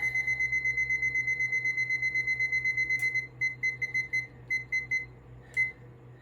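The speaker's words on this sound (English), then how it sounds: "This is the cheesecake timer." Kitchen timer for a cheesecake beeping in a rapid, steady run of bright electronic tones, then breaking into irregular bursts, sounding close and clear over a low steady hum.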